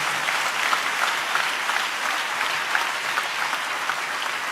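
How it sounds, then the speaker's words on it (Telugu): A church congregation claps steadily in praise during a sermon, a dense, even wash of many hands applauding together in a large room, sustained for several seconds without talk. "చప్పట్లు కొడుతూ దేవునికి స్తోత్రాలు చెప్దాం."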